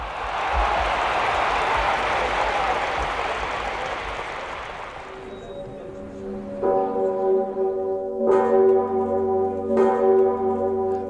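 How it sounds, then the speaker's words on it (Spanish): Church bells ring across Kraków after a crowd's roar fades, including the giant 9-ton cathedral bell, with deep resonant strokes sustaining and a few louder strikes ringing out around the city. "La gigantesca campana de 9 toneladas de la Catedral de Babel repica. Al poco tiempo, todas las campanas de Cracovia están repicando."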